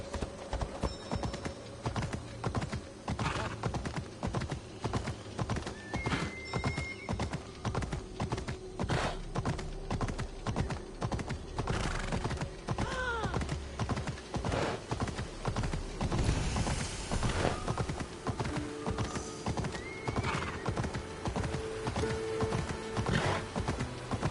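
Galloping horse hooves in the video game Assassin's Creed Odyssey, a steady rapid clip-clop rhythm running throughout with occasional whinnies over background game music and effects.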